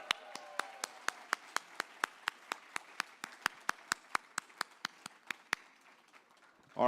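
Steady, evenly spaced claps at a white coat ceremony for medical students, roughly twenty sharp beats in a row like a single pair of hands or a synchronized group, fairly loud and close, ending abruptly.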